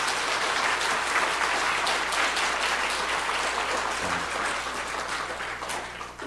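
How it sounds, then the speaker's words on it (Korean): A congregation at a Korean church Christmas service claps in steady, sustained applause that fills the room and eases off slightly toward the end. "우리 격려의 박수 한 번 더 한번 주시면 좋겠습니다"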